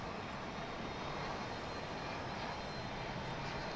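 A 1996 MD-11F cargo jet at Dallas Fort Worth airport gives off a steady, fairly faint, distant engine roar that holds evenly throughout with no voices.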